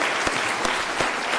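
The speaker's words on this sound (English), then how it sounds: "So big round of applause for all the staff members who made today possible" Dense crowd applause at a town hall meeting for the event staff, loud and continuous with a few sharper individual claps standing out.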